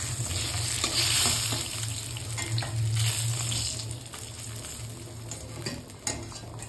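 Fish fries in a pan of oil for curry with a loud, continuous sizzle, broken by stirring and scraping of a utensil, and no one speaks.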